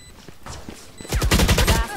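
Rapid bursts of video game gunfire erupt partway through, a dense volley of loud shots following quieter scattered sounds, with faint talk in the background.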